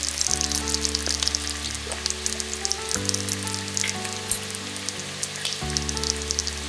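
Mutton kala bhuna stir-fries in a pan with steady sizzling and occasional scraping, running continuously over background music with tonal layers.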